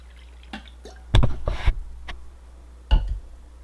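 Water is poured into a shaker to mix a pre-workout powder drink, heard as a few irregular splashing and dripping bursts close by, separated by quiet gaps.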